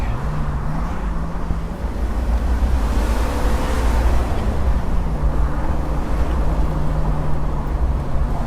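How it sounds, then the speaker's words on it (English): A 2005 Jeep Rubicon with its 4.0-liter engine drives along, a steady low drone with a shifting hum under heavy wind rush throughout, fairly loud and continuous with no talk. "I love that sound of these 4 liters."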